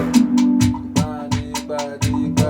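A flute-like synth line plays over a steady, punchy Afrobeat-style beat from a song. Short tonal phrases sit between regular drum hits, loud and up front, with no talking.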